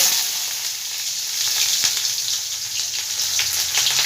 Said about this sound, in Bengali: তেলের মধ্যে আমি এবার পেঁয়াজটা দিয়ে দিলাম